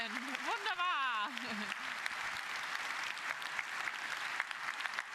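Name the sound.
audience applause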